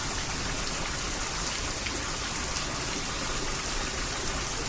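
Heavy rain pours down steadily in Arizona, a dense, loud, unbroken hiss of drops striking surfaces close by, with no voices.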